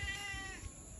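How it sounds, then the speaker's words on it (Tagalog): A cat gives a single short meow close by, steady and fairly clear over a faint background hiss. "Ito mga pusa."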